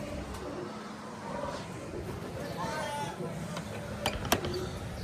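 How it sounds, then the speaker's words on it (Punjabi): Soft pigeon coos sound under nearby talking, with a few sharp clicks or knocks near the end. "ਕਬੂਤਰ ਸਾਹਿਬ ਵੀ ਆਪਣੇ ਫਿਰਦੇ ਆ"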